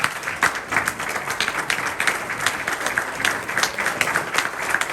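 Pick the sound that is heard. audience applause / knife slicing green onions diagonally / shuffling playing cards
audience applause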